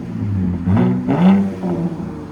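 Throaty exhaust note from a RAM 3.6L V6 fitted with an aftermarket muffler, a short rev that swells and falls back to a low idle rumble, close and loud with no talking.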